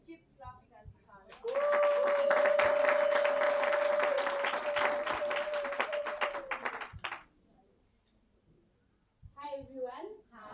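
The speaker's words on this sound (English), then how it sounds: "Let's keep clapping as we can." Enthusiastic crowd clapping at a graduation ceremony swells and holds for several seconds with a sustained tone over it, then fades out before a voice begins speaking.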